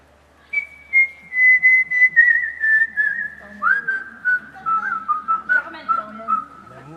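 A lone person whistles the opera melody from Bizet's Carmen, clear and close, with long sustained notes at first and then shorter detached phrases.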